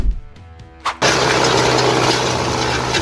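A tractor engine pulling a Kverneland plough through a field: after a few faint knocks, the engine comes in abruptly and stays at a loud, steady, broadband roar with a low drone beneath it.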